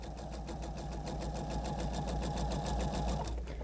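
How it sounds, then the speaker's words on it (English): A sewing machine runs steadily at speed, stitching fabric pieces onto a leader while piecing quilt connecting corners; a continuous, fast rhythmic whir close by with no talking. "Going to get my leader ready so I can sew right onto my leader."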